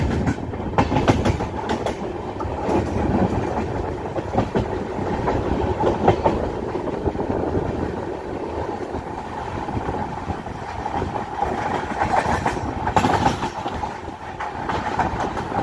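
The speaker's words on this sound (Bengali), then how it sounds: "2 মিনিট স্টপ দেওয়ার পর ট্রেন আমাদের কটক স্টেশনের 1 নম্বর প্ল্যাটফর্ম থেকে ছেড়ে দিল" The Shalimar–Puri superfast express rolls along the rails after leaving Cuttack station, with a loud, steady rumble and repeated clickety-clack of wheels over joints heard from inside the carriage.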